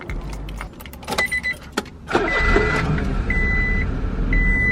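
A Honda car key jangles on its ring with several sharp metallic clinks, followed by a continuous low rumble of a nearby vehicle with intermittent electronic beeps.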